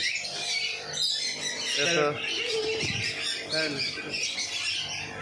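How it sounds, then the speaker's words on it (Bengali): Bright chirping and squawking birds, including cockatoos, fill the air in dense overlapping calls at a park in Gokarna, Murshidabad, with a voice talking beneath them. "বাহ দেখো পাখি রং বেরঙের সুন্দর পাখি"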